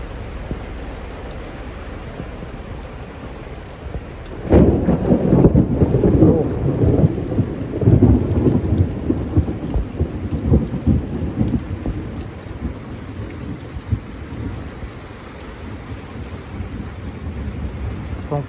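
Heavy tropical rain pours steadily while thunder rumbles in, swelling into a loud, rolling burst partway through and then fading back under the constant hiss of rainfall; no voices.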